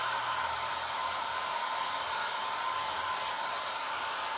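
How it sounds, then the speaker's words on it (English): A small hair dryer runs steadily and close by, giving a constant loud airy whoosh with a faint whine and no speech. "I hung my little hairdryer on the side"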